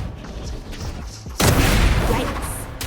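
Gunfire in the Valorant shooter game: a sudden loud burst of shots and impacts after a quieter stretch, close and harsh, filling the rest of the moment.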